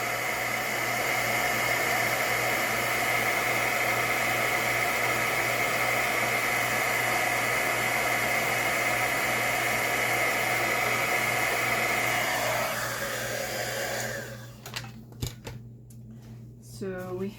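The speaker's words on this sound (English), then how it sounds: "we're going to bring in our heat tool" A heat tool blows hot air to melt embossing powder on a handmade card, giving a steady, loud fan-like whoosh that runs for about thirteen seconds before switching off. Faint handling sounds follow.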